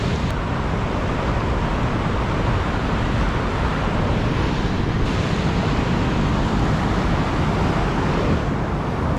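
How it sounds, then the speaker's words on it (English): Heavy water pouring from a plant outflow, a loud, constant broadband rush that holds steady with no breaks. "So much water just pouring down."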